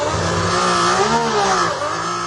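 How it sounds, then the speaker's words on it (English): A Ferrari engine that had sat unused for over four years, misfiring while running, gives a steady loud rumbling roar with uneven, faltering pulses throughout and no voices. "Can you hear the misfire?"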